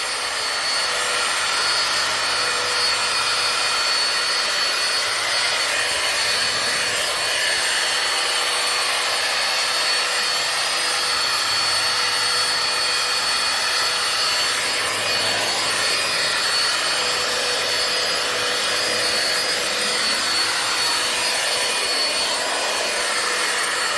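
A Bissell Powerlifter ION Pet stick vacuum runs on a hardwood floor, a loud, steady high-pitched motor whine with a slight rising and falling tone as it is pushed back and forth, close and alone.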